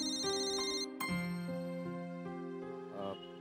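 A phone rings with a bright electronic melodic ringtone, steady tonal notes stepping up and down for a few seconds, clear and close with no voices over it.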